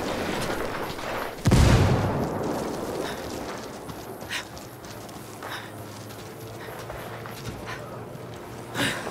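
A grenade detonates in the video game Ghost Recon Wildlands: one loud, close blast early on, trailing into a decaying rumble, with a few faint thuds and clicks afterward and no speech.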